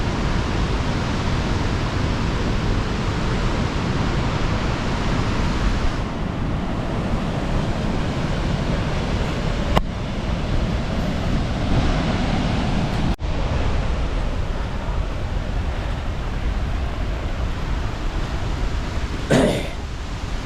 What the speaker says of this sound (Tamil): இவ்வளவு தண்ணி ஒரு நாளைக்கு ஓடிக்கொண்டிருக்கு